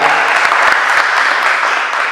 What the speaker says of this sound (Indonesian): Untuk yang nilai paling tertinggi di sini adalah Hakim Asari, ya tepuk tangan.